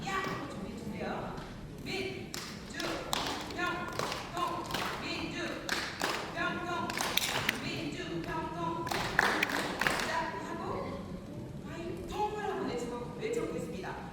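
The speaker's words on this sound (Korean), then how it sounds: "민주평통 박수를 한번 쳐보도록 하겠습니다" A group at a Minju Pyeongtong council meeting performs a patterned rhythmic clap, with sharp bursts of claps in quick sets separated by short pauses, mixed with a leader's voice speaking between and over them.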